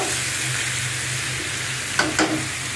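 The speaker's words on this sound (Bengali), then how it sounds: "ভালো করে ভাজা হোক" Shrimp frying in a pan with the gourd, a close, continuous sizzle with a couple of brief utensil scrapes near the end and no voices.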